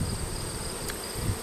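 Honey bees at a hive set up vertically for winter, a steady, soft insect buzz with faint high whine, close and continuous, no voices.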